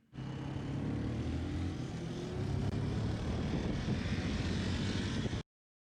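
A 1980s Yamaha quad ATV engine runs steadily on a test ride, a continuous loud droning rumble with shifting pitch as it travels, heard alone without talk.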